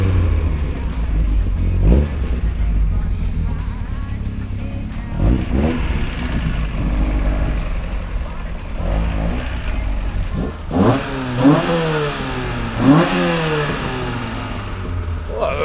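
A Mini Clubman fitted with a cammed Rover K series engine running on bike carbs idles with a rough, loud rumble, then revs sharply in several rising bursts near the end, close by.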